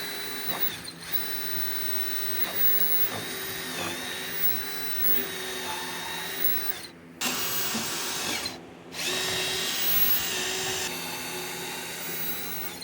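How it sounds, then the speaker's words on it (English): A power drill whines steadily close by while drilling holes for a wire railing, pausing briefly twice before starting up again, with no voices. "I'm going to drill my holes."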